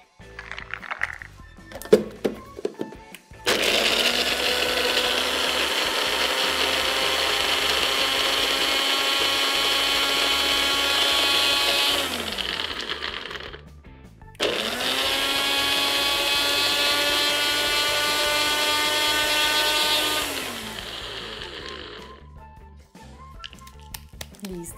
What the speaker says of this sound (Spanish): Vamos a procesar las nueces primero